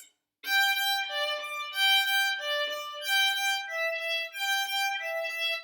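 A solo violin plays a quick, steady run of alternating sixteenth notes from Vivaldi's Allegro in G, bright and close, bowed evenly across two strings without pause.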